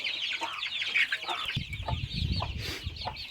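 Native country chickens, hens and chicks, on a free-range farm in Madurai cluck and chirp busily at close range, with high peeping calls over lower clucks.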